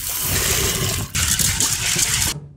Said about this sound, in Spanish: Para cocinar agregamos solo agua.